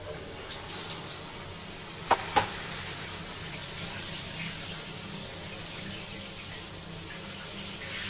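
Shower water running steadily in the Tomb Raider video game, a soft continuous hiss with two brief sharp clicks partway through.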